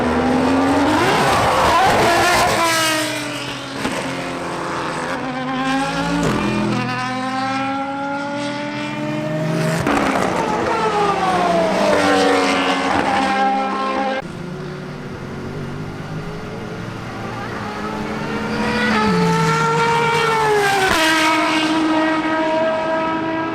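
Aston Martin Valkyrie V12 race car engine screaming at high revs, with repeated rising gear-by-gear sweeps and sharp shifts, loud and close, then fading slightly before building again, with no voices.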